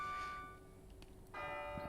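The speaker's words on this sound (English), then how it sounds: "The bell's going." In the Dragon Quest VIII finale, a church bell tolls twice with ringing, sustained tones, fading between strikes, faint and alone.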